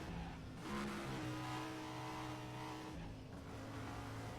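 An Audi R8 LMS Ultra race car in the Need for Speed World video game revs hard through the gears. The engine drone climbs and drops with each shift, steady and close, with no voices.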